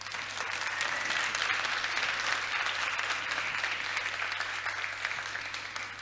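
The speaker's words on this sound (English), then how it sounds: "So I want to ask you to give a round of applause for the tech team" Steady round of applause from a large audience in a theatre at a climate change summit, a full even wash of clapping that slowly tapers without talk over it.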